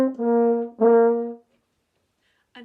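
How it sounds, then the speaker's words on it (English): A French horn plays a short phrase of eighth notes slurred together, mellow and fairly close, the tones flowing smoothly without breaks before stopping into silence. "First, we'll start with slurring all of the eighth notes together."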